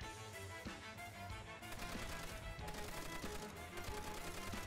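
Stationary Browning machine gun in Call of Duty: World at War firing continuously, a loud rapid stream of dense shots with steady rhythm and no pauses.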